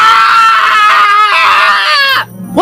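A man lets out one loud, sustained, excited scream, wailing and wavering for about two seconds before cutting off abruptly. He is worked up over a new beer release.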